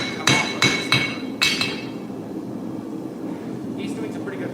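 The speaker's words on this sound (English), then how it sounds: "this hammer seems to be coming apart for some reason. It's a 4-pound hammer." A 4-pound hammer, its head loosening, strikes Damascus steel during forging in three or four sharp metallic blows over a constant low roar, probably a forge, then a few faint clinks.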